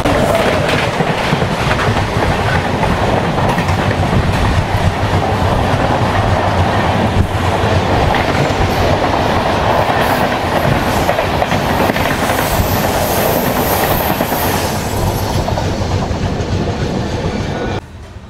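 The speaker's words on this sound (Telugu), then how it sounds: "సో ఆ పక్క నుంచి ఏదో ట్రైన్ అయితే వస్తుంది." Andaman Express 16031 with new LHB coaches rolling past near Chirala, a loud, continuous rumble with rhythmic clickety-clack of wheels on rail joints, holding steady for about 17 seconds before dropping off abruptly.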